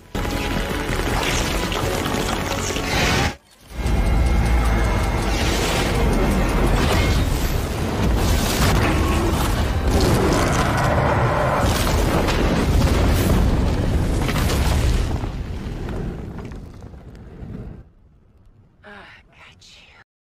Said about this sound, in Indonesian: menembaknya dengan sebuah bom yang saya sendiri nggak tahu itu apa namanya. Soalnya ledakannya luar biasa